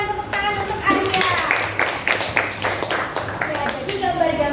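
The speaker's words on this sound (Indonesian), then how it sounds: "Kita berikan tepuk tangan untuk Arya." Classroom applause for a student: a short burst of children's clapping, close and lively, with a teacher's voice talking over it throughout.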